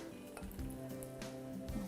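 Steady sizzling of chicken pieces frying in hot oil, with occasional soft clinks of a pan, close and continuous with no talking.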